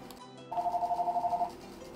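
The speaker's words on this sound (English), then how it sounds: "A phone always has to ring during my live streams." A telephone rings once during a live stream of Minecraft on Xbox One: a brief warbling electronic trill lasting about a second, fairly close and clear over a quiet background, with no talking.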